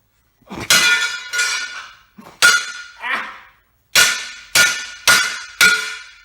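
Hammer blows ring out on metal, about seven loud clangs in an uneven rhythm, each with a bright metallic ring that decays before the next strike.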